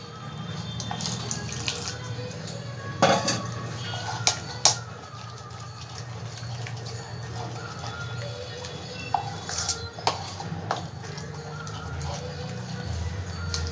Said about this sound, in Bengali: এবার অল্প অল্প করে জল দিয়ে আমি ব্যাটারটাকে গুলে নেব